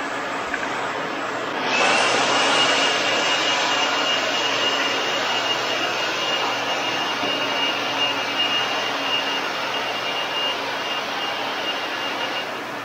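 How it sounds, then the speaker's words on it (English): Vacuums and a blower run together while a garage floor is cleaned between coating layers, a steady loud roar with a high whine that swells after a short lead-in and holds continuously without talk. "Get a couple vacuums going, get a person with a blower, and we clean these floors up pretty quick"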